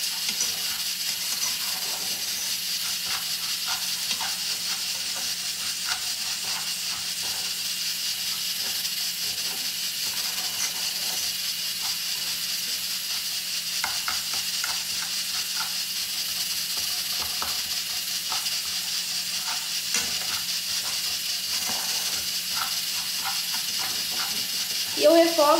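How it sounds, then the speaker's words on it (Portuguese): Rice being sautéed in a small pan over raised heat, giving a steady faint sizzle with scraping and stirring clicks throughout, with no talking heard. "Vou dar uma refogadinha nele aqui, ó."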